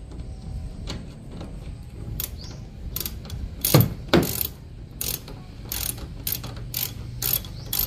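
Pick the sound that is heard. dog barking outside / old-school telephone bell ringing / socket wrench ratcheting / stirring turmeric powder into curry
socket wrench ratcheting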